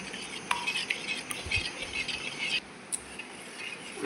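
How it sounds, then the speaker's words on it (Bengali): A spoon works through sour yogurt in a bowl, giving soft continuous wet stirring with occasional light clinks against the side, close and fairly quiet. "টক দই দিয়ে আমি ভালো করে মিশিয়ে নিচ্ছি আর একটু ফেনা ভাগ করবো এইরকম করে যেন একটু ফেনা ওঠে"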